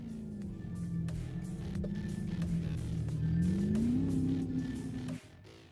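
Drift cars at Jyllandsringen during CSG Drift round 6 battles drone and rev as they roll back toward the start line, engine pitch wavering and climbing before cutting off sharply near the end.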